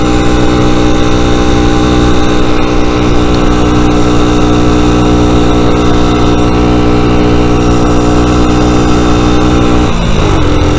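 A motorcycle engine pulls steadily in second gear on a road ride, a loud, close, continuous drone with a sustained mid-pitched throb and a slight change near the end.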